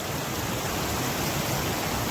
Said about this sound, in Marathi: पाणी किती मस्त निखळ वाहतं पाणी